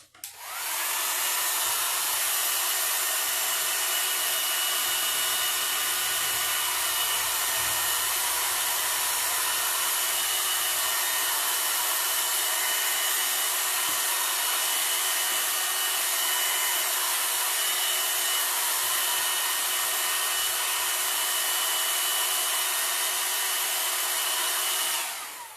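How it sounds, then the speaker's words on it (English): A hair dryer blows steadily and loudly for the whole stretch, drying a painted t-shirt tote bag, its high whirring airflow constant and unbroken with no talking. "I'm going to dry it one last time so that when I take it off to show you all"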